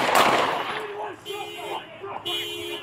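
Gunfire from a police exchange with a suspect in Seattle, heard as a loud broadband burst at the start, then shouting voices over a tonal background.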